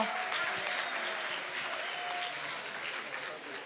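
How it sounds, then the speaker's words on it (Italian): An audience at a public event applauds steadily and fairly loudly throughout, a dense, even wash of many hands clapping with faint murmuring underneath. "Fatelo l'applauso, un applauso non va mai soffocato"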